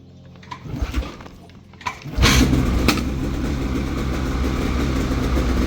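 A 2022 Polaris 850 Khaos Matryx Slash snowmobile with stock exhaust starts after a few faint knocks, then settles into a steady, fairly loud idle that runs continuously to the end.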